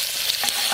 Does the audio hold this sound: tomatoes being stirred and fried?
yes